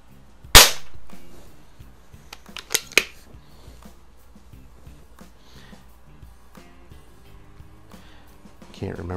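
Beeman P17 air pistol fires a sharp crack in a garage, followed by a couple of quicker mechanical snaps and clicks, then quiet handling noises.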